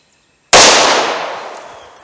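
A single loud, close 9mm pistol shot fired with Hornady Critical Duty ammunition, a sharp crack at the start followed by a long ringing decay, with no talking.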